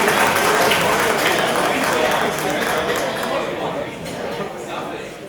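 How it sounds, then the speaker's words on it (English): An audience at a documentary filmmaking talk applauds the speaker as he is introduced, loud dense clapping at first that gradually thins and fades, with some crowd murmur mixed in. "Let's give a big round of applause to"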